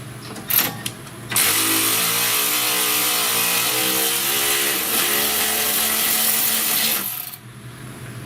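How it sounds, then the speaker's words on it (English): An impact wrench hammers loose a strut bolt on a Dodge Grand Caravan, a loud continuous buzzing rattle lasting several seconds after a couple of short bursts, then stopping abruptly. "I'm broken loose with the impact"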